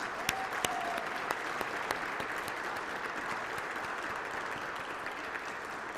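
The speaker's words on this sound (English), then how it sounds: "one more round of applause" Steady audience applause at a transit employee recognition ceremony, moderately quiet and continuous, with a few sharper individual claps standing out near the start.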